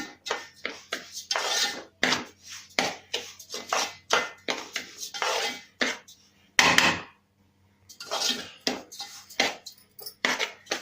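Wheat rava roasting with a little oil in a wide pan is stirred in quick, repeated scraping strokes, each a short rough burst with brief gaps between, heard up close and alone.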